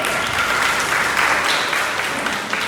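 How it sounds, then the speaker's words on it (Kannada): Steady applause from a group at a saree-draping class in Dharwad, a dense unbroken patter of clapping hands filling the whole short stretch with no voices over it. "ಬರ್ಲಿ ಚಪ್ಪಾಳೆ."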